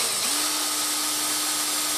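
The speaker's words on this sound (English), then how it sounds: "and I'll drill through" A power drill whines at a steady high pitch, grinding loudly and continuously through material at close range.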